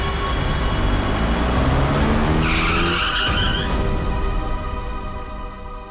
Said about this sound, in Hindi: बीच सड़क में गाड़ी क्यों रोक दी?